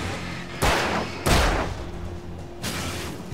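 Gunshots in the video game Alan Wake: three loud, sharp blasts spaced roughly a second apart over a steady low ambient hum, with no talking.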